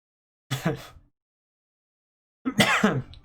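Two separate coughing bursts, close and fairly loud, with about two seconds of silence between them and no talking.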